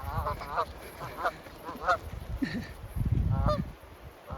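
Several geese honk repeatedly in bursts, fairly close, with rustling movement and footsteps underneath.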